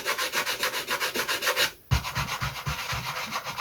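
Steady back-and-forth sanding strokes rasp on the wooden structure of a model aircraft in a quick, even rhythm, close up, with a brief pause midway before the rubbing resumes.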